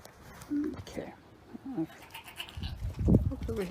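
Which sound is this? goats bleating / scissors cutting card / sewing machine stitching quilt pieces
goats bleating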